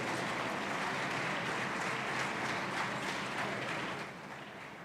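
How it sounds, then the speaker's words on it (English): A conference hall audience at an international civil service event applauds a minister, a steady wash of many hands clapping at a distance that holds evenly, then eases slightly near the end. "Please give him a huge round of applause."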